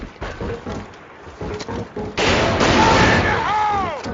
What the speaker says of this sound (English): Shadow shooting at him